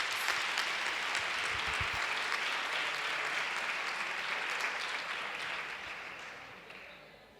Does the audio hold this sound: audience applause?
yes